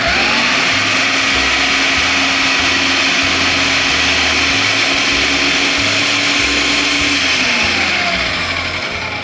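A blender spins fresh basil into a pesto paste, a loud, steady motor whine with a churning rumble that holds for several seconds before starting to wind down at the end.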